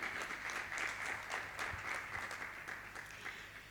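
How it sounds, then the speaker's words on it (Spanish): Steady audience applause at an architecture networking event in a Porcelanosa showroom in Huelva, many hands clapping together fairly softly and continuously for a few seconds, tapering slightly at the end. "Así que un fuerte aplauso."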